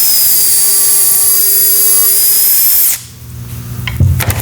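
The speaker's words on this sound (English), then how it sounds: "Now you're ready to drill." Power drill bores a hole in a cabinet door through a hardened steel drill guide jig: a loud, steady high-pitched whine runs for about three seconds, then cuts off, leaving low rumbling handling noise.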